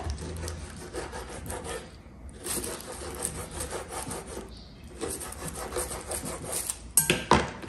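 A knife scrapes and saws through raw liver on a board in repeated strokes, with brief pauses and a few sharper knocks near the end.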